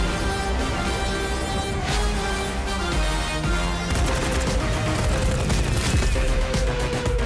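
Dense machine gun fire in the Pathaan movie trailer rattles in rapid bursts over a loud, layered action score and effects, continuous and up front.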